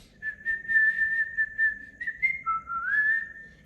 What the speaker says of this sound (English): and he whistled